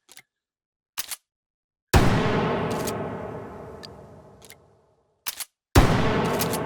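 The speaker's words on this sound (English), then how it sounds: "pull it forward, and fire the Dragon's Breath immediately" Dragon's Breath shotgun round fired in the H3VR game, one loud, booming blast that rings and slowly decays, set among sharp metallic clicks of the shotgun action being worked, with no talking.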